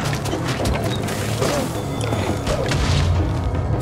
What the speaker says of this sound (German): Wir hatten hier Explosionen hingemacht